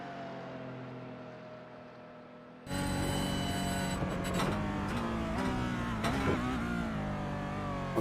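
A race car on the Suzuka circuit roars in under a faint background hum, then sits loud and sustained at high revs down the start-finish straight, with the pitch shifting through gear changes.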